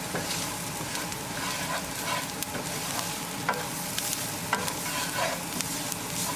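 Onions fry in a pan while turmeric, salt, coriander powder and garam masala are stirred in, producing a loud, continuous sizzle with scattered scraping clicks of the spoon throughout, no voices.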